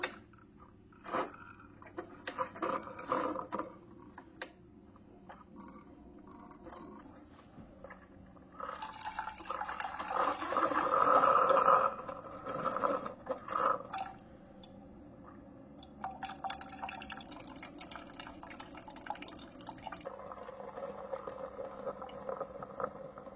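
K-cup coffee maker running its first brew with a fresh fill of water, giving quiet gurgling, hissing and sputtering bursts that build to a louder bubbling stretch midway and then trail off into intermittent drips and clicks.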